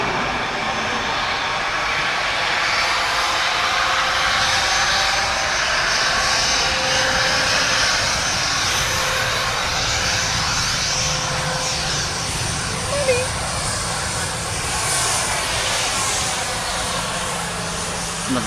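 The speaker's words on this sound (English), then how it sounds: "AIRBUS A321 off to Zurich." Airbus A321 jet departing Dublin Airport for Zurich, a loud sustained engine roar with a broad whine that stays strong and steady for the whole stretch, no voices over it.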